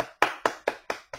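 Single person clapping hands, five crisp evenly spaced claps in a steady rhythm, close and alone.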